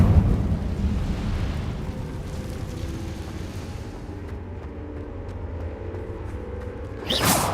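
An Incendio fire spell is cast in the Hogwarts Legacy video game, heard as a sustained rumbling, crackling whoosh that fades gradually before a short sharp burst at the end.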